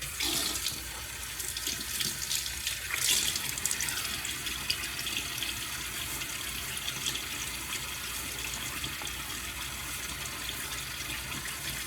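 A bathroom tap runs into a sink as water is used to wet the face before a shave, a steady close stream with brief splashing of hands near the start and no talking.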